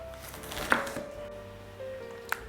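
A kitchen knife chopping an onion on a board, a few sparse cuts with one sharp knock standing out, close but fairly soft over a low background hum.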